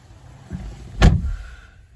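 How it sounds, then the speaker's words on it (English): A Mercedes-Benz A200d AMG Line car door swings shut with a single solid thud, heard close, preceded by a softer shuffle of movement as someone settles inside. "just close that door."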